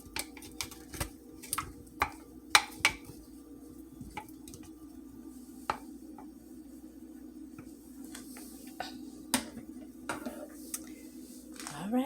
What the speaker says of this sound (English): I'm gonna just move everything around back here, make everything stirred up in the gravy.